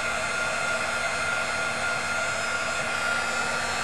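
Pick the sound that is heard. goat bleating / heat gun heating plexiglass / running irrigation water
heat gun heating plexiglass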